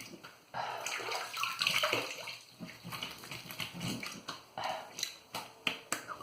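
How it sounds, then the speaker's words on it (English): Tap water splashing as someone rinses their face after a shave in a bathroom sink, with uneven bursts of wet splashing and cupped-hand slaps, close and fairly soft, without talk. "let me rinse off and see"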